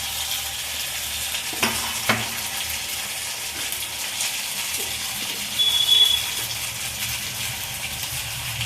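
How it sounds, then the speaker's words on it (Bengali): Ground spice paste with ginger, pepper and garlic fries in a pan for broiler chicken curry, a steady soft sizzle with occasional scraping stirs and light clatter, close and continuous without speech. "মশলাটা ভালো করে কষিয়ে নিচ্ছি।"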